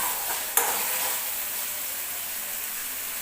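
Masala for a dry chickpea chole bhaji cooking in oil in a pan, giving a soft, steady sizzle throughout, with one brief stir or scrape near the start and no voices.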